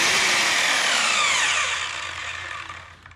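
An Evolution R185 CCSX saw cuts through light cedar wood, a loud close whine that starts at full strength and gradually winds down as the blade slows over about three seconds.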